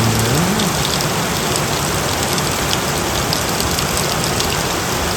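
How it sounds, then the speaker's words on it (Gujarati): Steady, heavy rain falls in a village as a dense, unbroken hiss with scattered drop patter. A faint low engine hum sits underneath. "કેવો વરસાદ પડે"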